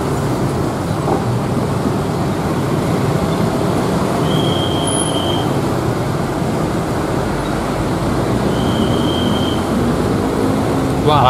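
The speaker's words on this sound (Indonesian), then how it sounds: "Ini ada kereta nih, mobil-mobil pada berhenti." A KRL commuter train rumbles past the Bintaro Permai level crossing JPL 58A, a loud, steady roar of rail wagons and wheels with traffic noise mixed in, continuous throughout, with two brief high tones.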